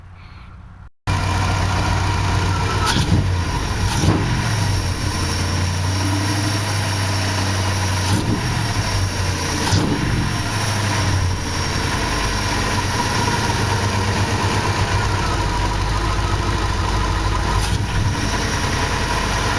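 A 1970 Dodge Charger V8 on FiTech GoEFI fuel injection idles high at about 1300 RPM, a steady loud rumbling drone heard close with slight fluctuations and no talking.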